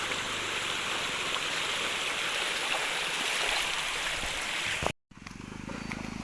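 Steady rush of stream water at Kuttupatti waterfall, a broad continuous wash close by that cuts out abruptly near the end before returning slightly quieter.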